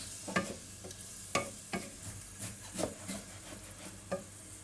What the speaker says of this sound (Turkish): Şimdi sebzelerim güzelce bir sotelensin.